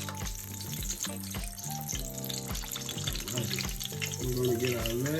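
Chicken fajita egg rolls fry in hot oil with a continuous crackling sizzle. The frying sits under prominent background music with a clear melody.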